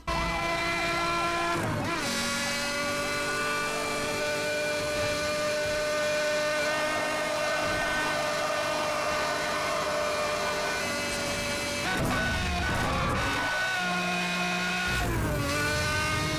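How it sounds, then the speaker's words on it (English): A sustained, high-revving Pagani Zonda engine in the racing game Need for Speed Hot Pursuit roars steadily with shifting pitch, briefly dropping and surging during gear changes, loud and close. "here's the engine sound of the Pagani Zonda in the game"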